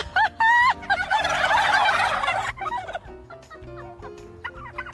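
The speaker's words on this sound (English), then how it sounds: "the turkeys decided to join the conversation in perfect unison" A loud burst of turkeys gobbling together during a live TV news broadcast, a rapid chattering chorus lasting a couple of seconds, followed by scattered quieter calls and background noise.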